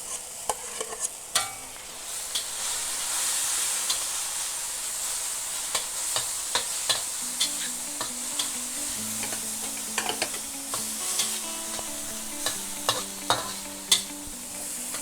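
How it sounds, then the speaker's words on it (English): Mushrooms, cauliflower, onions, carrots and ginger garlic paste are stir-fried in a pan, a steady sizzle broken by repeated sharp scrapes and knocks of a spatula, close and fairly loud throughout. "Now the mushrooms are slowly changing its color, so I'm going to add in the cauliflower, the onions, the carrots, and the ginger garlic paste."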